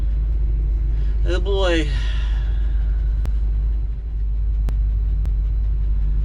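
A car with a failing transmission pulling out onto a Florida road, its engine rumbling low with a rising whine as it strains through the gears, while a voice speaks briefly over it.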